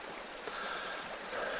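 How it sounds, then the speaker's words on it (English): Small, fast-moving creek in Michigan's Upper Peninsula woods runs with a steady broadband rush of water, continuous and fairly close, with no talk over it. "it's a smaller creek again, but it's fast moving water"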